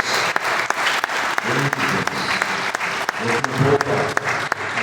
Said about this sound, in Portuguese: logo o Senhor com as palmas bem fortes para Jesus